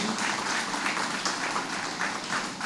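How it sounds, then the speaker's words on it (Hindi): Audience claps for the director at the close of a stage play, a dense, continuous wash of applause filling the hall for a few seconds with no voices over it. "बड़ी जोरदार तालियां हो"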